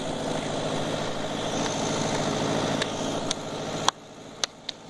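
Car engine running steadily on an off-road trail through tunnels, a constant broad rumble that stays fairly loud, with a few sharp knocks near the end as the engine drops off.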